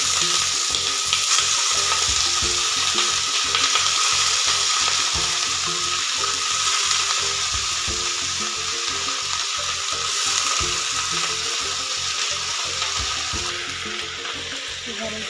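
Red amaranth greens and chilli fry in a pan, a loud continuous sizzle with stirring scrapes and a melodic backing track running throughout.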